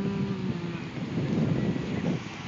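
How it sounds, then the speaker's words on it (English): Wind gusting against the microphone on a cloudy day in Galveston, a steady rough rush rising and falling without a break, no talking. "Wind is blowing, very cloudy, dark, dreary"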